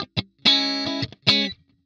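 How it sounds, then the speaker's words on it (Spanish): Clean electric guitar through a compressor effect on a Fractal Audio FM3 modeling a Mesa Boogie JP-2C clean channel: two short plucked notes, then two longer, evenly sustained notes with bright, steady decay and brief gaps of silence. "Y lo podés escuchar tranquilamente el compresor como hace el clásico efecto"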